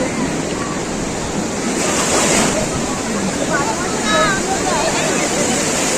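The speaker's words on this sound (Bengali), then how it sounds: "মাঝে মাঝে ঢেউটা আসে, খুব ভয় লাগে।" Loud, continuous rush of sea surf with waves washing in and out on a beach, mixed with wind buffeting the microphone and faint distant voices.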